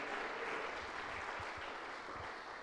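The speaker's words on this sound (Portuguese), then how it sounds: "As palmas para o Senhor." A church congregation claps in a dense, steady round of applause that fills the space, loud and continuous throughout, with no voices standing out.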